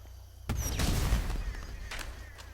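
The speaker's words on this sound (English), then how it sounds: "Firework!" Fireworks exploding in the video game GTA V, with a sudden loud burst of crackling blasts followed by sustained popping and whistling bursts under game ambience.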